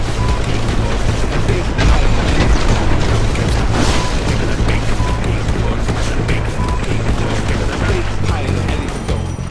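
Dense, continuous booming explosions and heavy weapon fire in the mech combat game Phantom Brigade, loud and relentless, with blasts overlapping one another throughout.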